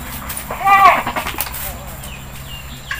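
A goat on a farm lets out one wavering bleat close by, with someone talking over and around it and light outdoor background noise.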